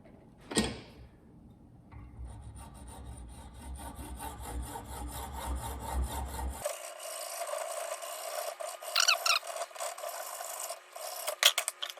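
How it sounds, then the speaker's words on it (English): Hacksaw rasping through a plastic shield on a free riding mower, with steady back-and-forth strokes that start after a short knock and continue close and fairly loud, changing tone partway through as the blade bites deeper. "I don't see any reason why we don't just hacksaw off that plastic shield"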